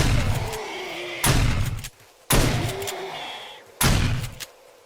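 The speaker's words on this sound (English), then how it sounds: "how about we pull out the shotgun just for the hell of it?" Shotgun blasts in the zombie survival game 7 Days To Die, three loud booming shots spaced about a second apart, each with a sharp attack and a decaying tail over low rumbling background.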